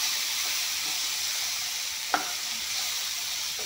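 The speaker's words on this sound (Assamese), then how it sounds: "এতিয়া এইখিনি অলপমান জুইটো কমাই দি ভাজি ল'ম" Eggs, green chillies and peas fry in a hot pan over lowered heat, sending out a continuous dense sizzle with one sharp stirring clink partway through.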